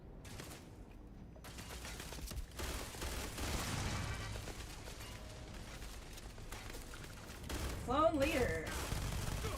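Bursts of gunfire and rapid automatic shots rattle out while clones are gunned down in Starfield, building toward heavier clattering volleys near the end, with a voice speaking briefly over the shooting.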